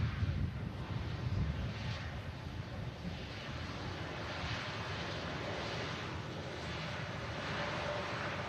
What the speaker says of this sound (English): Coming up off the ground from the airfield, guys. Lufthansa.